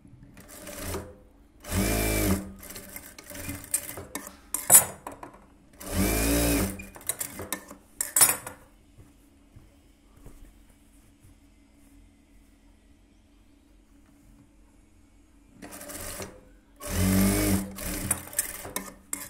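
A sewing machine joins the shoulder seam of a lined blouse, running in several short bursts of rapid whirring stitching up close, separated by pauses with faint handling noise.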